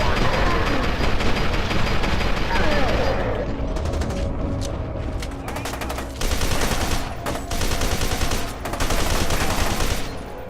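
Submachine gunfire from soldiers in the shooter game F.E.A.R. 2 Project Origin: dense, loud automatic bursts that fill the whole stretch, thinning briefly in the middle and then resuming in rapid volleys.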